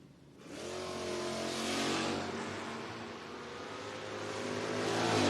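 Two door-class drag racing cars launch down the strip, their engines roaring loud and continuous with dense layered revving that swells and builds steadily, no talk over the sound.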